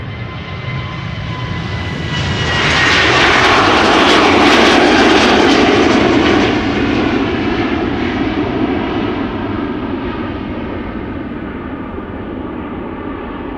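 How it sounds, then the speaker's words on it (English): A KLM Boeing 737-800 jet takes off at Amsterdam Schiphol, its engine roar building to a loud peak over a few seconds and then slowly fading as it climbs away, with no voices. "This is KLM flight 1031 to Persenchester, 737-800."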